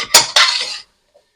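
Metal spoon knocking and scraping in a pot while stirring vegetables and rosemary: two quick clinks close together, then silence.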